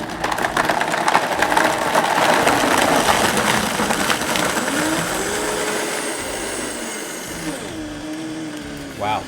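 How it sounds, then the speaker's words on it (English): A blender roars loudly blending a dessert, its motor pitch wavering and gradually winding down, with voices talking over the noise near the end. "put it on and blend it up"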